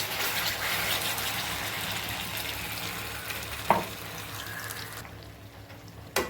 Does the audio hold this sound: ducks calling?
no